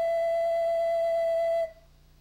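A single sustained note from a Native American flute sounds clear and steady for well over a second, then stops abruptly; no one talks over it.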